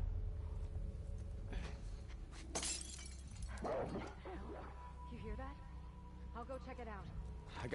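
Dogs bark and yelp amid crashing, shattering game effects in The Last of Us, with a player talking over the noisy, cluttered mix.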